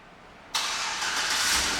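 A 2008 GMC Yukon XL SLT 2WD engine starts by remote start after a quiet moment: an abrupt crank-and-catch, then a steady, fairly loud idle that settles and continues.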